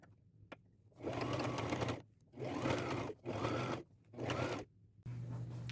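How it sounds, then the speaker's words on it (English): A sewing machine runs a straight stitch joining the sleeves of a boho top made from a thrifted blouse and bedsheet, in four close, steady bursts separated by short pauses over a low room hum. "right here is where I'm sewing them together 9 inches up. And I'm using a straight stitch."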